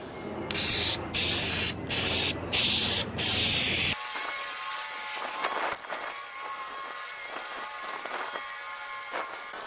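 Spray can applying clear coat to an old farm truck: four loud hissing bursts with short pauses between them, then quieter rustling and handling sounds.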